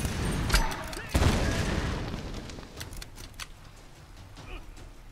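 Grenade blast and gunfire in the video game Tomb Raider: a heavy booming explosion rumbles early, followed by scattered sharp shots and a fading low rumble.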